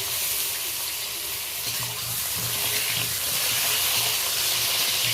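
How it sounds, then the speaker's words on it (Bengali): Pointed gourds (potol) coated in salt and turmeric fry in hot oil, a steady dense sizzle and hiss running throughout with light stirring, close and moderately loud, no voices. "এবার আমি তেলটা গরম হয়ে গেছে পটলগুলো ভেজে নেব সব পটলগুলো একসাথে দিয়ে দিলাম"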